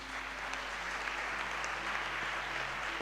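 A church congregation applauding in praise of Jesus, a steady, dense wash of clapping from many hands with a low hum underneath.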